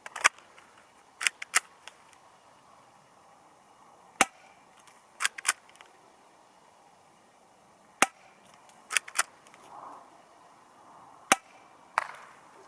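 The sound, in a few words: airsoft CZ75 SP-01 Shadow pistol shots during accuracy test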